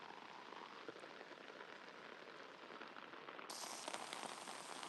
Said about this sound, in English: I don't know why it's raining so hard here.